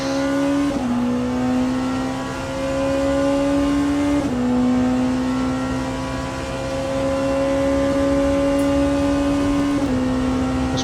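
Porsche race car in the Le Mans Ultimate racing game, its engine note holding a steady high drone at speed, with brief shifts in pitch as it changes gear, continuous and loud with no talk.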